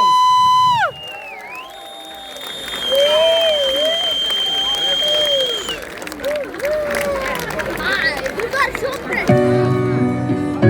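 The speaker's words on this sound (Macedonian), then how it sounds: "Да ги поздравиме со голем аплауз." Crowd applause and cheering at a live patriotic concert in Prilep, Macedonia, broad and steady through most of the clip after an electronic tone opens it, with shouts scattered in and music cutting in near the end.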